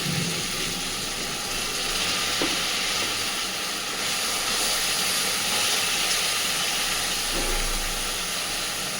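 A splash of water hits hot masala that is already releasing oil in a pan for a potol chingri curry, giving a steady broadband steam hiss that lasts the whole stretch, with no talking.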